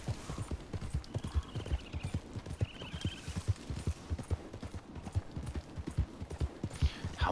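Horse hooves clip-clopping at a steady, brisk rhythm in Red Dead Redemption 2 Online, loud and close throughout, with a faint whinny and light background game sounds, no speech.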